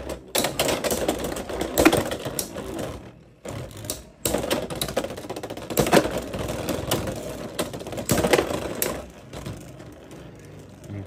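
Beyblade X Sphinx Cowl tops, including a black 480 high taper, launched and clashing against a Phoenix Wing: rapid rattling, clicking impacts in dense bursts with brief quiet gaps, close and fairly loud.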